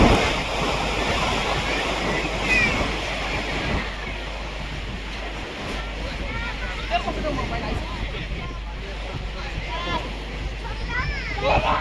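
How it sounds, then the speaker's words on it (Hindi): Sea waves washing onto the shore at Dona Paula, Goa, a steady broadband surf roar mixed with wind buffeting the microphone, with faint voices in the background throughout. "और जो लहरें आ रही हैं"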